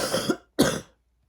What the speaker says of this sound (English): Feels so much better when you can cough those stuff out.